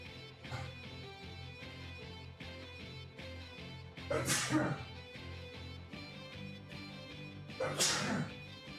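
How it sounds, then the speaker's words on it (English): A person lets out two loud, sharp sneezes a few seconds apart, each a sudden burst over quiet background sound during a pinball session. "Oh, excuse me. Huge sneeze."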